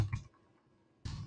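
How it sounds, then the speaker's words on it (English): Someone types on a computer keyboard, giving two short, quiet bursts of clicking keystrokes separated by about a second of near silence. "I'm typing, and there you go."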